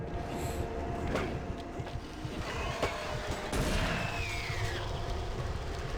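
A shotgun fires in a video game, with several sharp, punchy blasts at irregular intervals over a dense bed of other in-game noise.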